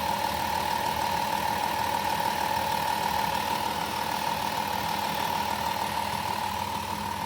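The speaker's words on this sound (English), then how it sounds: "It's a runner. Pretty powerful motor." A van's powerful engine runs steadily at idle, a constant mid-pitched drone with a strong hum, close and alone without talk.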